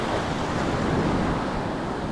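Ocean surf at Rockaway Beach, Oregon, a steady loud wash of breaking waves close by, continuous rushing noise with a touch of wind and no talking.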